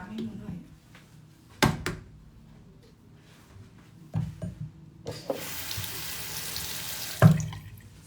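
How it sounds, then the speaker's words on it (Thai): A tap runs for hand washing, a steady hiss of water starting partway through with clattering knocks from the sink, while people talk nearby. "เดี๋ยวนะล้างมือก่อน"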